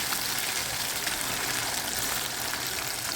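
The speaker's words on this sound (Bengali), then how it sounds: "তাই আমি আরও একটা সাইড উল্টে দিচ্ছি।" Bombay duck fish fry on their second side in oil in an iron wok, producing a steady, crackling hiss close by, continuous and unbroken, with no voices.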